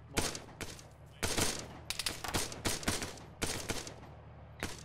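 Gunfire in a military shooter game, bursts of rapid automatic shots alternating with single cracks, dense and loud, continuing without a break for several seconds with no speech.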